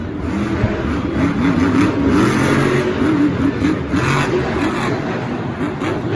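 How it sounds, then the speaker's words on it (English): The Gravedigger monster truck's engine roars and revs during a freestyle run at a Monster Jam stadium show in Houston, loud and continuous with rising and falling throttle over crowd noise. "It is going to be Adam Anderson in Gravedigger going for some insane air."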